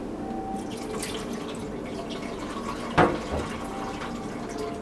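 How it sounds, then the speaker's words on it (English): Water from an EcoFast filter housing pours into a sink in a steady, gentle stream, with a single brief clunk partway through and no voices. "And empty the water into the sink."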